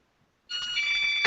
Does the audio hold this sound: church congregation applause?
no